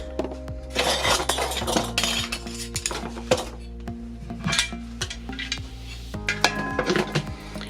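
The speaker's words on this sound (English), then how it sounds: "Gonna put these in my canner." Glass canning jars of cold raw chicken clink and knock as they are set one by one into a Presto 23-quart pressure canner, a run of close, sharp clatters over a steady low hum.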